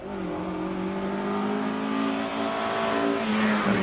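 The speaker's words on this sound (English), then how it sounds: "Meanwhile, Terry Clifford in his Alfa Romeo GT Junior 2-litre machine goes around Pardon." An Alfa Romeo GT Junior 2-litre race car runs the Prescott hillclimb during the British Hillclimb Championship, its engine droning loud and steady at high revs, pitch climbing slightly toward the end, with no talking.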